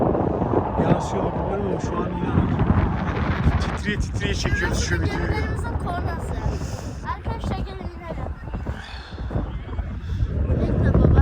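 Wind gusting across a microphone, a steady low roar and buffeting throughout, swelling louder near the end, with faint voices underneath.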